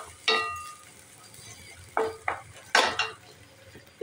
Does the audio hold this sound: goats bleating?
no